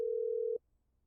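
In the Car Service Together video game, a phone calls a customer with a steady electronic ringtone. One sustained tone holds for about half a second, then cuts off abruptly into near silence.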